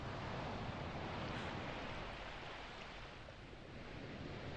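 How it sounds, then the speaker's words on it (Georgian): Sea waves wash in a faint, continuous surf, a soft, even hiss with gentle swells and a touch of wind, heard alone without voices. "მე კი მესმის ზღვის ხმა."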